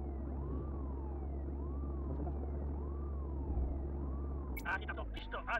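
A police car siren in the video game Contraband Police wails in slow, repeating up-and-down sweeps over a low engine drone, fairly faint, with a few sharp sounds near the end.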